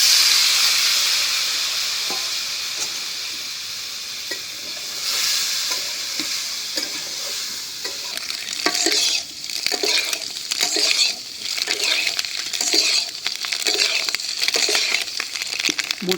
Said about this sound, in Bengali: মোটামুটি একটু কড়া করে ভাজা নিলাম।